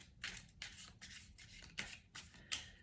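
Tarot cards are shuffled by hand in a series of soft, quick riffling bursts, about seven close, quiet rustles with brief pauses between them and no talk.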